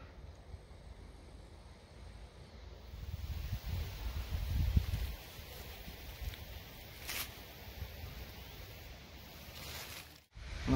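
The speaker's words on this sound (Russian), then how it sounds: "25 июля шумом ветра, природы." Outdoor wind blows steadily with soft rustling and gusty microphone buffeting, quiet and continuous, ending in a brief handling bump.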